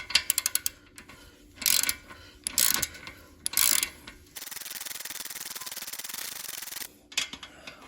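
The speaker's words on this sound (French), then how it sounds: "maintenant, je fais l'écrou d'axe de la roue" A wheel axle nut on an Orcal Sirio motorcycle is tightened, with short bursts of ratcheting clicks, then a steady rasping whir for a few seconds, and a few more clicks at the end, all close and clear.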